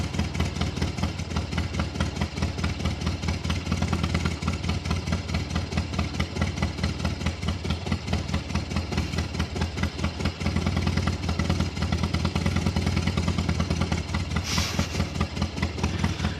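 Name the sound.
motorcycle engine idling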